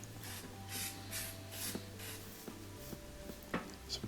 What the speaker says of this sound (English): I usually just spray some just to make sure that I got into all the places